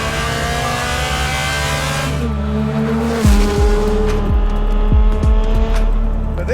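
A Ferrari 430 Scuderia sports car driven hard on roads in North Wales, its engine roaring loud and close with a sustained high-revving tone, then sharp gear changes and rising revs as it accelerates.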